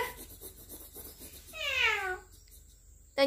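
A person imitates a cat's meow, a single drawn-out rising-and-falling vocal meow following some soft background murmur, close and moderately loud.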